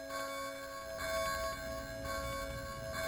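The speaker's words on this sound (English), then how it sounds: "the loud sound of the church bell" A church bell rings in the Game Boy Advance Silent Hill Play Novel, a faint, sustained metallic tone with soft repeated strikes, heard alone without talk.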